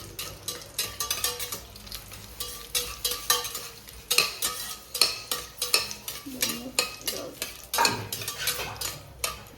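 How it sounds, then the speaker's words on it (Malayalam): Whole cinnamon, clove and cardamom stirred in a hot pan, a steady run of rhythmic scraping spoon strokes over a light sizzle, close and without voices. "പട്ട, ഗ്രാമ്പു, ഏലക്ക അങ്ങനത്തെ ഐറ്റംസ് മതിയാവും. ഇളക്കി കൊടുക്കും."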